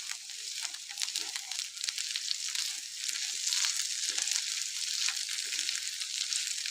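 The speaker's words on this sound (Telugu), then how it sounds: "ఇప్పుడు మన గోకరకాయ 10 minutes నుంచి మంచిగా ఫ్రై అయింది. ఇప్పుడు ఒకసారి మనము మంచిగా కలిపి చూద్దాం." Cluster beans (gokarakaya) frying in a pan give off a steady, bright sizzle with a continuous crackling hiss. Occasional soft scrapes come through as the beans are stirred. No voices are heard.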